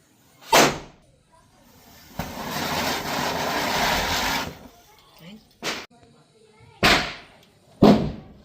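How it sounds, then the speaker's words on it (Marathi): Several sharp, loud bangs of leftover Diwali firecrackers go off one after another, with a stretch of sustained crackling noise between the first blast and the later ones. "दिवाळीला उरलेले फटाके जे आहेत ते वाजवत आहे"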